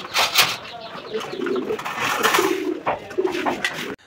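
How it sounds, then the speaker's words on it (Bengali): A pair of Lakka pigeons coos close by in soft, repeated low rolling phrases, with a voice talking over them throughout. "এটা মূলত হচ্ছে লক্ষা কবুতর একটা জোড়া।"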